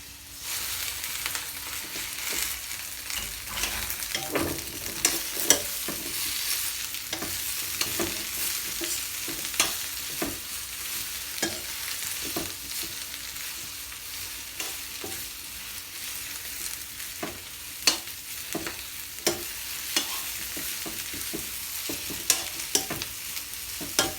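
Ingredients are stir-fried in a hot wok for a Thai rad na dish with greens. The oil sizzles continuously, and a spatula scrapes and clacks against the pan in irregular strokes. No one speaks.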